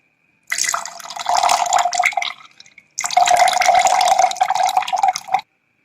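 Warm water is poured into milk in two bursts of steady splashing and trickling, close and loud, with a short pause between pours and no talk.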